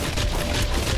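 A tower firing two guns in Roblox Tower Defense Simulator makes a loud, continuous wash of rapid shots with no pauses, heard alone without speech.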